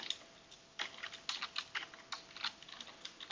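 Quick, irregular keystrokes on a computer keyboard as code is written for a memory-controller programming course, light clicks in short bursts, fairly faint and close, with no talking.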